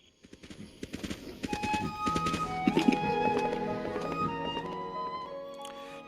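Horse hooves clip-clop in a Switch video game, with quick taps gathering speed as the game's melodic music swells and rings on underneath.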